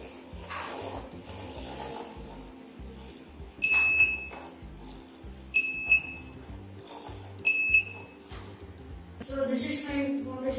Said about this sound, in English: senses that the car is going to dash and the buzzer goes on